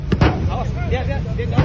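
Car window glass being struck gives sharp, heavy banging hits, two near the start and one near the end, over tense voices talking during a police arrest.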